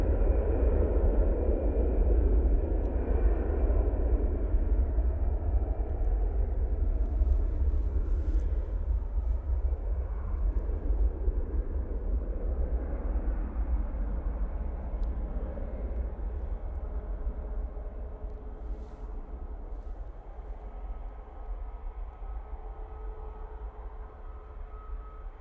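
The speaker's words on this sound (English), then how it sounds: "TUI 787-9 Dreamliner is coming out" A TUI Boeing 787-9 Dreamliner departs, a distant low jet rumble and hiss that slowly fades over the whole stretch, with a faint tonal whine appearing later on.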